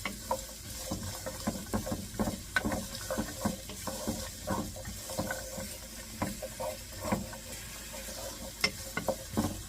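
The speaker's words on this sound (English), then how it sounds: "let's get this stirred around like so" Vegetables and edamame are stirred around in a sizzling pan during meal prep, with repeated scraping, clattering strokes over a steady frying hiss, close and alone.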